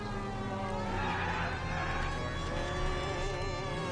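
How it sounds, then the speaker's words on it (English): Police car siren wailing in the video game L.A. Noire, a steady continuous electronic wail with rising and falling sweeps, loud and constant alongside engine rumble, no talk. "me slapping the sirens on every time I get into a car"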